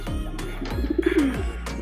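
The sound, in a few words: pigeons cooing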